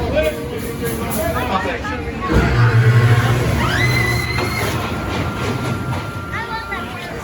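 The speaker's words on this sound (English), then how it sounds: "This was off a fantastic night ride on Backwatch Sun Coaster." Night ride on a roller coaster at Kings Island during the Halloween Haunt, with loud rumbling track roar and clattering wheels, a rising whine partway through, and voices and crowd babble mixed in close by.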